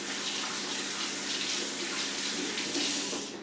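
Hands being washed under a running kitchen tap, a continuous close hiss of flowing water splashing into the sink for the whole stretch.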